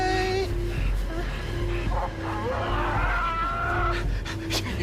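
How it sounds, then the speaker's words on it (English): A sheepdog pants and whimpers close by in a tense nighttime film scene, with steady breathy panting over a low droning hum, a few high whining tones rising and falling throughout. "No, it's a sheepdog or something."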